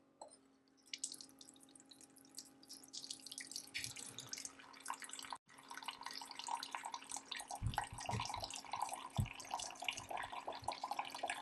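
A SimPure Y7P countertop reverse osmosis filter flushing water into a pitcher: a quiet hum, then steady trickling and splashing of water filling the pitcher, close and continuous with small drips.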